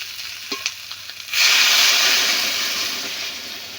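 Water poured into a pan of eggplant, potato and spice mix that has been frying, setting off a sudden loud burst of sizzling and hissing that stays strong and slowly eases, after a few faint clinks.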